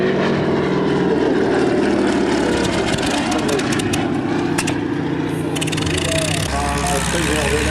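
A P-40 fighter plane's engine runs steadily as it taxis, a constant loud propeller drone that shifts in pitch near the end, with a voice talking over it.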